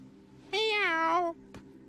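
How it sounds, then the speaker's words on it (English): A single cat meow, clear and close, rising then falling for under a second, followed by a brief click in otherwise quiet surroundings. "Meow."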